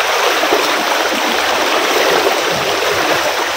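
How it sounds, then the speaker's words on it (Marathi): A rain-swollen river rushes forcefully at Govil, near Lanja in Ratnagiri, in a loud, steady, unbroken roar of churning water with no voices. "पाण्याला फोर्स बघा"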